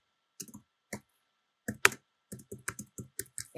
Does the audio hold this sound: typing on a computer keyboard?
yes